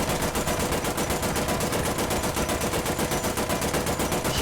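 A US heavy tank's machine gun in War Thunder fires one long, unbroken burst, loud and close, its rapid, evenly spaced shots hammering out a steady rhythm.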